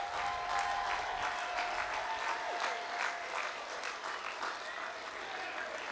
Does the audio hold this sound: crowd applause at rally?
yes